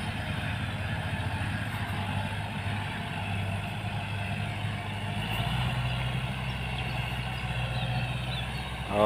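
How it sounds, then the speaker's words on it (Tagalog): A rented tractor for farmland preparation with a rotovator rumbles steadily at moderate distance, a low continuous engine drone that swells slightly as it draws nearer. "Ayan na po yung ating inarkilang traktora mga kapalaisdaan."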